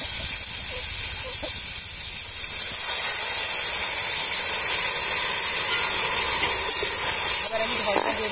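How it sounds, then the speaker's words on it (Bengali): Water poured onto frying potatoes in a pan for dal palak, bursting into a loud sustained steaming hiss that swells after a couple of seconds and holds steady, close and bright throughout. "এবার অল্প একটু জল দিয়ে দেবো যাতে আমার আলুটা সেদ্ধ হয়ে যায়"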